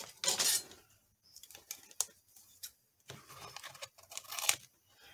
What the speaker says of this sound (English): I just need to cut that off